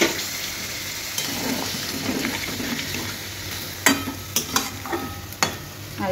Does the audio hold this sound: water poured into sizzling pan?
yes